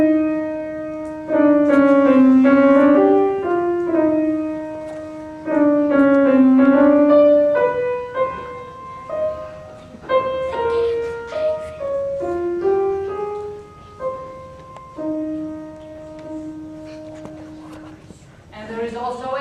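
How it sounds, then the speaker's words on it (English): An oboe plays the duck's melody from Prokofiev's Peter and the Wolf, a reedy solo line of phrases rising and falling with held notes, clear and close. "The duck is played by an oboe."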